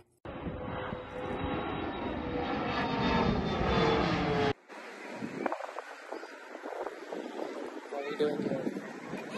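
Jet airplane engines roar loudly at an airport during plane watching, a broad steady rush that builds and then cuts to a lighter, windier mix of distant engine noise with voices faintly present.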